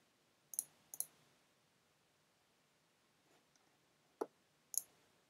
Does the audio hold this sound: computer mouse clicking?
yes